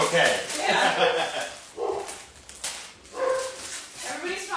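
Dogs in a home kitchen bark and yip in short repeated bursts, mixed with people talking over them.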